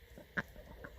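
Backyard chickens in a Western Washington garden give a single short cluck, faint and close, amid quiet surroundings.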